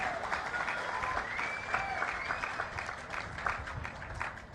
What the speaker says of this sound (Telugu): వాళ్ళందరినీ గట్టిగా చప్పట్లు కొట్టి అభినందించండి.